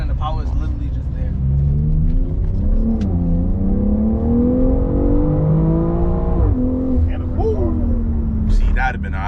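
A BMW X3 M or M340i accelerating hard, its engine note climbing through rising revs with a gear change midway, loud and close from inside the car, with voices over it.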